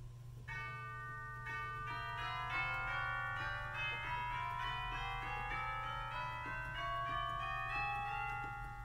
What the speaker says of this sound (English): I play a little snippet of the last hymn just on the chimes